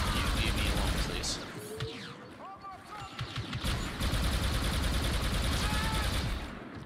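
Dense, loud blaster fire rattles through a Star Wars Battlefront 2 firefight. Rapid bursts and zapping shots overlap almost continuously, with a brief lull in the middle and voices heard over the combat.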